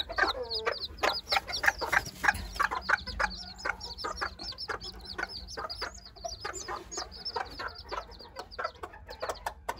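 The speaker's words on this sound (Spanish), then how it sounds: "Allá andan, miren qué chulada de pollitos." A hen and her chicks, of the Aztec bantam kind, sound close by as the chicks peep in a rapid, continuous run of high calls over the hen's soft low clucks.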